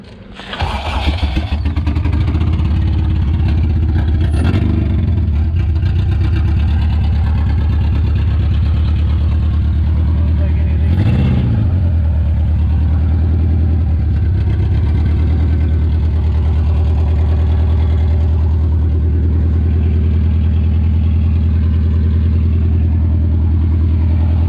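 An engine being primed and started, catching after a brief crank and then settling into a loud, steady idle with a couple of small blips, close by and with no talk.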